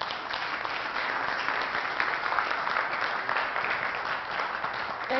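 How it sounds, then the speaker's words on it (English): An audience at an authors' summit in Charleston, South Carolina, applauds for the next speaker, a steady close wash of clapping that holds for several seconds with no talking. "let's give a very warm round of applause and a great introduction to our next speaker, Marsha Friedman"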